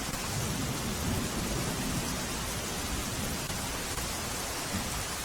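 Rain falls over Ahmedabad after a long dry spell, a steady, loud, unbroken hiss of downpour with no voices.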